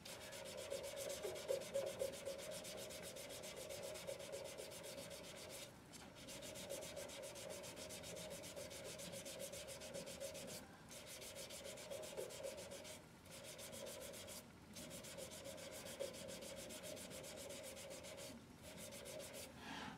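Sandpaper rubs back and forth along a handcrafted brush handle, a steady close scratchy rasp in long even strokes broken by a few brief pauses, with no talk.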